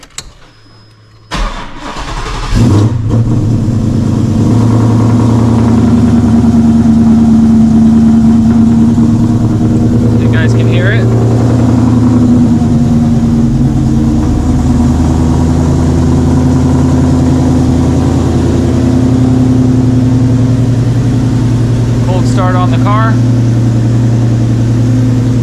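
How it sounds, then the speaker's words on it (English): A Coyote-swapped Foxbody Mustang fires up from cold: a starter crank, then the engine catches and settles into a loud, steady, rumbling idle close by that holds for over twenty seconds. "Let's go ahead and do a cold start."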